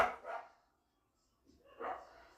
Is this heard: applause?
no